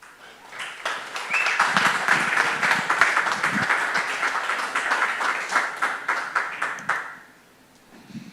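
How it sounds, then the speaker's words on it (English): An audience at a Bitcoin conference stage in Cape Town bursts into applause after a talk, dense clapping swelling quickly, holding for several seconds, then thinning out and fading to near silence. "a round of applause for him, ladies and gentlemen"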